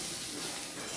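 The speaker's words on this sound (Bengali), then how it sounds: "একটু ঢেকে ঢেকে কাঁকরোলগুলো আমি ভেজে নিচ্ছি।" Spiny gourd (kakrol) pieces fry in a partly covered pan, giving a steady, close, even hiss of sizzling oil with no pauses.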